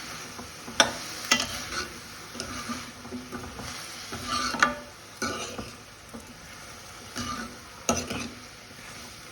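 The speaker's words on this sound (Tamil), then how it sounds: "அதனால் நல்லா வந்து கிளறி விடுங்க, நல்லா வதக்குங்க" Eggplant, drumstick and raw mango sautéing in a pan with curry leaves, a low sizzle under repeated scraping stirs of a spoon against the pan, clinking strokes every second or so, close by and without voices.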